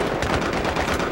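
Rapid, continuous light machine gun fire in the video game Battlefield 3, on the Grand Bazaar map, rattles loudly throughout, a dense stream of bursts with no pauses.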